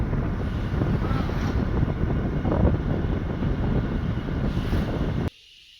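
Strong outdoor wind roars and buffets the microphone with a dense, steady, low rumble for several seconds, then cuts off abruptly.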